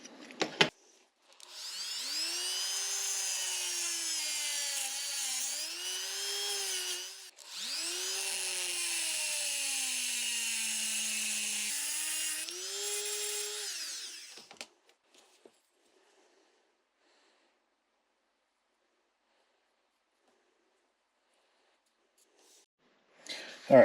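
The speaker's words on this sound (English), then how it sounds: "let me break out the Dremel tool and let's see" A Dremel rotary tool cuts into a Hot Wheels car body with a high whining grind that rises and dips in pitch as it bites, two long bursts then quiet, with no talk.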